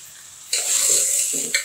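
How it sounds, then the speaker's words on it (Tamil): Tender ridge gourd sautéing in a pan for a village-style kulambu, a steady soft sizzle and stir that swells in after a quiet start and carries on for over a second. "இதே நல்லா ஒரு 2 நிமிஷம் வதக்கி கொடுத்துக்கலாம்"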